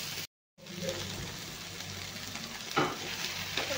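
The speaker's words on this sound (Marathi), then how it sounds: "मसाला बाजूला करून आपण हिरवी मिरची थोडीशी तळून घेणार आहे।" Green chillies frying in a pan beside pushed-aside masala for Punjabi chole, a soft, steady sizzle after a brief dropout, with a couple of louder stirring scrapes near the end and no voices.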